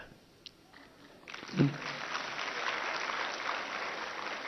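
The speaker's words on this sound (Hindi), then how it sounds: "ताली तो उधर से बज रही है, इनकी नहीं बज रही अभी भी" At the Vedic Kanya Gurukulam in Haridwar, an audience breaks into applause after a student performance. A second of near-quiet and a soft thump come first, then a broad, moderately distant wash of clapping that continues steadily.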